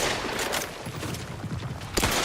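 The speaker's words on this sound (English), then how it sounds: "Shotgun. Shotgun, always the best option." Shotgun fire in The Outer Worlds 2, heavy booming blasts layered with dense game combat noise, with a final loud shot near the end.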